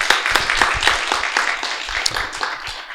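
Audience at a user conference clapping for a presenter, scattered individual claps forming moderate applause that thins toward the end, with no speech over it.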